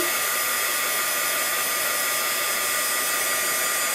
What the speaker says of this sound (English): Next step would be obviously to dry and you can use heat gun